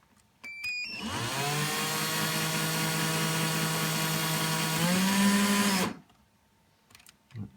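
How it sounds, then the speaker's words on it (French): A power drill spins steadily for about five seconds, twisting taut wires into a zipper coil, a loud even whine that rises slightly in pitch near the end before cutting off, preceded by a few small clicks. "On saisit à l'autre extrémité avec la pince et on y va, on twist."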